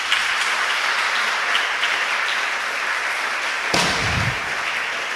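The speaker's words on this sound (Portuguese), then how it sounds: "Aplauda ao Senhor." A church congregation applauds steadily during a service, a constant wash of clapping from many hands, broken near the end by a single low thump.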